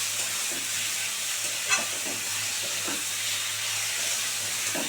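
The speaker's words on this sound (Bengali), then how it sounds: "দেখো পেঁয়াজটা ভালো করে একটু ভাজা ভাজা করে নিয়েছি" Steady oil sizzle from onions frying in a pan, with occasional soft scraping as they are stirred; no voices.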